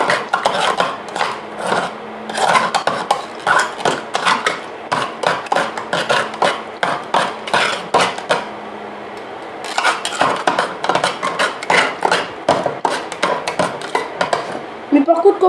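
A knife comes down again and again on speculoos biscuits inside a box, making sharp, hard knocks and clattering crunches in fast bursts, with a brief pause partway through and some speech in between.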